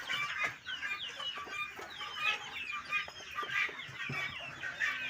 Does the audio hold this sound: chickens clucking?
yes